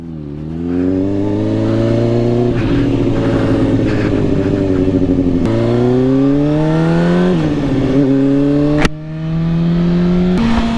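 A 2016 Honda CBR600RR sport bike screams hard through its gears on a speed run, loud and close, engine pitch climbing steadily with sharp dips at each of several upshifts.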